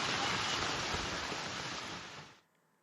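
Traffic moves through rainwater flooding a street in Chheda Nagar, Nalasopara. A loud, steady rush of splashing water lasts about two seconds, then falls quickly to near silence.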